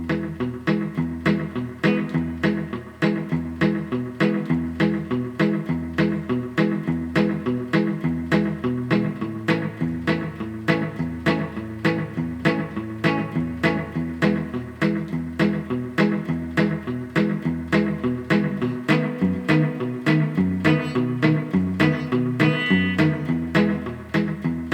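Guitar chugging a steady country rhythm through a 12-bar blues, with even alternating bass notes and chord strums played alone for the whole stretch.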